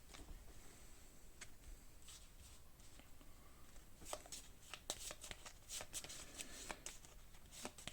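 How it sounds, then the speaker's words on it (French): Playing cards for the Aeon's End board game being shuffled by hand, a soft riffling and flicking that grows busier toward the end, quiet and close with no talk. "mélange toutes les cartes."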